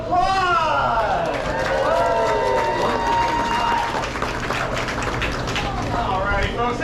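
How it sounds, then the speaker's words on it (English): Crowd applause and cheering at a gator wrestling show at Gatorland in Orlando, Florida, a dense steady roar of clapping mixed with voices and an amplified announcer talking over it throughout. "I want to give my friend Michael a huge round of applause."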